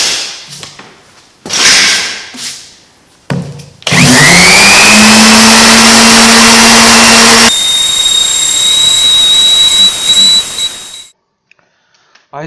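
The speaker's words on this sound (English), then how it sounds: "First I will try the other side with just a random orbital sander" Random orbital sander working rust off a cast iron table saw top, a loud steady whine and grind that starts abruptly after a few short bursts and holds for about seven seconds before cutting off.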